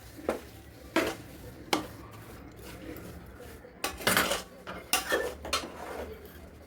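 A spoon works through a warm fenugreek and edible gum ladoo mixture with melting jaggery in a metal vessel, producing close scraping and clinking strokes, a few spaced knocks followed by a faster cluster of louder scrapes, fairly quiet with no speech.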